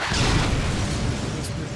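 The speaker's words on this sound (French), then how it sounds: "Il y a l'avion qui était dans le bâtiment qui est tombé dans la rue, du coup ça a fait un..." Deep, rumbling explosion in Resident Evil 6 as a plane crashes into the street, a loud sustained roar with broadband debris noise that fades slowly over nearly two seconds.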